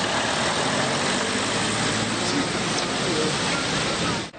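Truck driving through a flooded road: continuous loud engine rumble mixed with broadband rushing wash of water, steady throughout and close, no speech.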